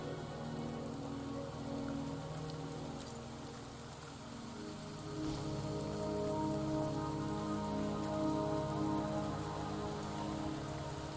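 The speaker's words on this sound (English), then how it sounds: "Don't worry, the rain won't last much longer." Rain pours in the video game Wuthering Waves, a dense, unbroken hiss of drops on surfaces that holds steady for the full length and swells slightly in the second half, with no voices.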